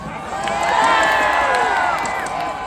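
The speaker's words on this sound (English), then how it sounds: "Hey, people in the West, cheer for me a little louder." A large rally crowd at the Capitol cheers and whoops loudly and continuously, a dense roar of voices with scattered shouts.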